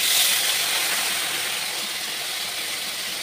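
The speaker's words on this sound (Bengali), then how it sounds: "মশলাটা আলু পটলের সাথেই কষিয়ে নেবো ভালো করে।" Spices sizzling and frying with potato and pointed gourd in a hot pan, a steady close hiss without pause and no talk.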